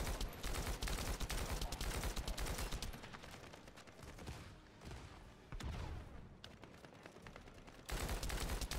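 Rapid gunfire and bursts of shooting in the sci-fi shooter The First Descendant, dense and loud at the start and end with a quieter, sparser stretch of scattered shots and effects in the middle.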